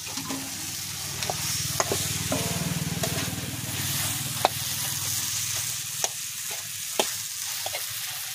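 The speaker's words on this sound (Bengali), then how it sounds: "এবার আমি মাথাটা দিয়ে দিচ্ছি" Fried fish head is added to a pan of cooked-down masala, with a steady close sizzle of frying under sharp scattered clicks and scrapes from the utensil.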